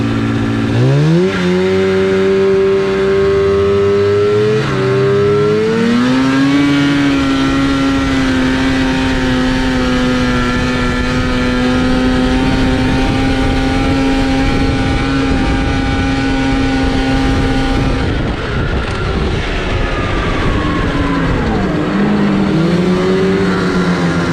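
An SRX snowmobile engine running on packy snow climbs through its revs, then holds a loud, strained, buzzing note near 8,000 RPM for a long stretch before easing off briefly and picking back up, close and continuous.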